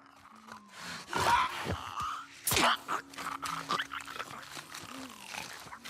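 Clicking calls of a clicker, a fungus-infected enemy in the video game The Last of Us Part II, rasping and clattering in uneven bursts over a low in-game ambience, with a couple of louder strained croaks near the middle.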